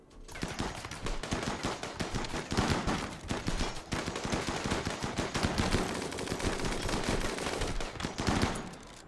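Gunfire in the video game Factioncide II: dense, continuous bursts of rapid shots and machine-gun rattle layered over one another for several seconds, loud and crowded, with no talk.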